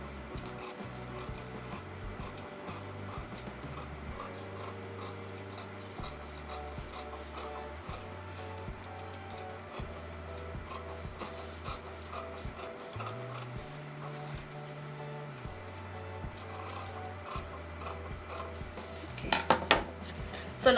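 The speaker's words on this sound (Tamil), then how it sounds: "இப்போ நான் அவுட்டர் கேன்வாஸ் கட் பண்ணுறேன்." Scissors snip through outer canvas fabric while a half collar neck is being cut, giving a quick run of small, close, rhythmic crisp cuts over a soft low background hum, ending in a few louder rustles.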